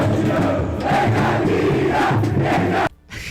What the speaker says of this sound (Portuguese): Não, é a torcida da Ponte.